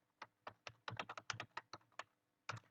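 A computer keyboard being typed on: about a dozen crisp keystrokes in quick, uneven bursts with a short pause before a final pair, close and clear with no voices.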